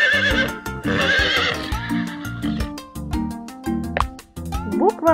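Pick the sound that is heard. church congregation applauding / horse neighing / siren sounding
horse neighing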